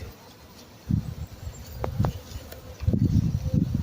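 Honey bees hum in a low, steady buzz around a small box holding their queen during a beekeeping demonstration, the drone swelling and fading with a few brief higher whines, heard close and moderately loud.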